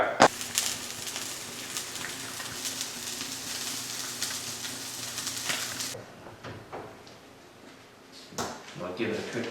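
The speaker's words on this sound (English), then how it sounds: "Let's get some pan searing going." Tuna searing in a hot pan gives a steady, bright sizzle that runs close and loud for about six seconds, then falls away to quieter clatter and handling noises. A voice talks over the sizzle.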